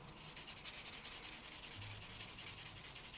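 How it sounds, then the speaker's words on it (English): A sanding sponge rubbed back and forth over a model tiger tank during a build, a quiet, close, rhythmic scratchy swishing with steady strokes and no talking. "These sanding sponges are good,"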